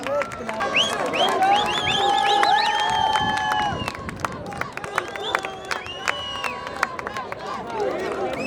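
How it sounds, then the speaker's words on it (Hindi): Applause and cheering rise from a crowd at a sports games prize ceremony, with whistles and a busy babble of voices, loud and sustained before thinning out. "बहुत सारी तालियां तो बजाएं जनाब"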